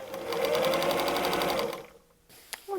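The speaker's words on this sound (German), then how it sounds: "Nähen bis zur Nadel, entfernen die Nadel und nähen weiter." A sewing machine stitches a patchwork seam in a quarter-inch seam allowance, its rapid, even needle chatter running steadily for almost two seconds, then stopping, followed by a few quiet clicks.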